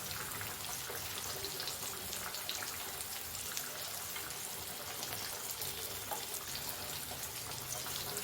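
Pieces of halwa fish (pomfret) fry in a pan of oil, a steady dense crackling sizzle that holds evenly loud for the whole stretch with no break, close up and alone without any talking.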